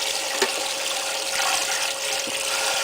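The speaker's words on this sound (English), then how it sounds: "So you don't need to fill the entire pot with water" Tap water runs into a pot to cover meat for pho, a steady, close rushing stream with no talking.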